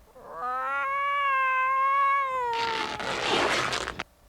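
A cat lets out one long, drawn-out yowl that wavers in pitch, followed by a harsher, noisier snarl before it cuts off, loud and close with no talking.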